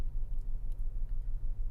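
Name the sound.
car engine rumble while sitting in the car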